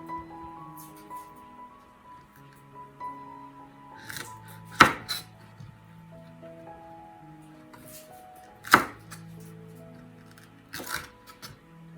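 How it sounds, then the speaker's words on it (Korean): A kitchen knife chops radish and green onion on a cutting board while making nabak kimchi, giving a few sharp, separate strikes over a background of soft music. "무 썰은 길이 정도로 썰어주겠습니다."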